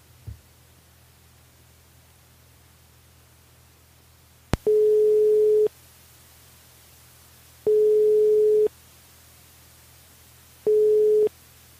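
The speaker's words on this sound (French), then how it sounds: "Il appelle Sabine sur le standard" Telephone ringback tone on a line called from a French live radio call-in show: a steady hum, a click, then three evenly spaced buzzing rings about a second long each, separated by quiet gaps.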